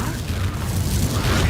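A Bombarda spell explodes in the Hogwarts Legacy video game, a loud, dense boom with a rumbling blast that fills the whole moment.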